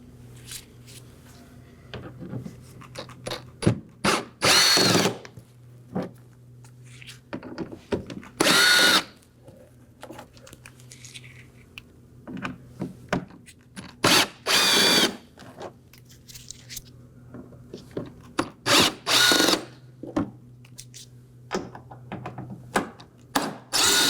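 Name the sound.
power tool removing T15 Torx screws inside wheel well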